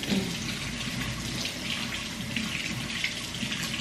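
Water pours steadily from a water cooler into a bottle, a continuous close hissing splash that holds unchanged throughout with no talking.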